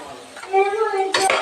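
A spoon scrapes and clinks against a metal cooking pot while coriander powder is stirred in, a few short metallic scrapes ringing close by, with a brief voice in the background.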